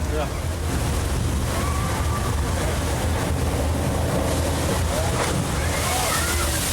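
A staged flash flood on the Universal Studios backlot tour, as released water rushes down a hill in a loud, continuous wash and slosh that stays steady for the whole stretch, with faint voices under the roar.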